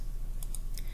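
Keys on a graphing calculator get tapped three times, quick light clicks spread across a second against a low steady hum.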